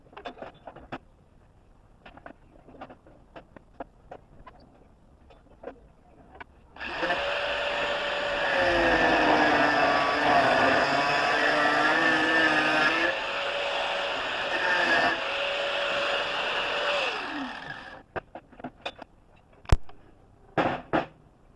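A grinder cuts sections out of metal pieces for a Lidl Mini Kamado grill deflector. A loud, steady whine runs about ten seconds, with clicks and light handling noises before and after it.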